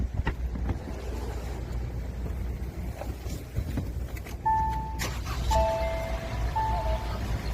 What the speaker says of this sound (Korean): 시동 한번 걸어서 엔진 소리 한번 들려드릴게요.